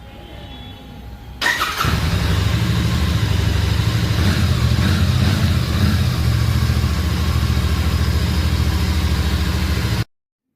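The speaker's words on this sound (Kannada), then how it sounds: "ಬನ್ನಿ ಈ ಬೈಕ್ನ ಎಕ್ಸಾಸ್ಟ್ ಸೌಂಡ್ ನೋಡೋಣ" A Royal Enfield GT650 chrome twin-cylinder motorcycle starts and settles into a steady, loud, close exhaust idle with a deep even rumble that runs for several seconds before cutting off.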